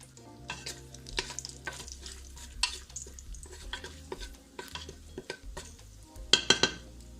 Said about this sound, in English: We're gonna let this fry up in the oil.